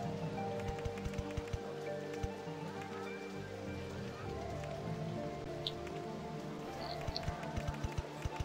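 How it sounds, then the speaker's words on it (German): Rain in RollerCoaster Tycoon patters steadily on a surface with a soft, continuous hiss and scattered drops, low and fairly faint throughout. "Jetzt regnet es eh, okay."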